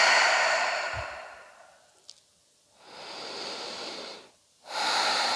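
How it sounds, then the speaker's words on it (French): Slow, deep breaths during a gentle prenatal yoga session: long airy exhales and inhales come close and soft, separated by quiet pauses. "Et on respire naturellement."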